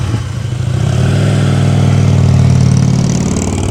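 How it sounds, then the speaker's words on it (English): A Harley-Davidson motorcycle engine runs steadily at close range during a pre-owned bike parade at a dealership, a loud, continuous low throb that swells slightly as it revs, with no talking over it. "Bike sounds good."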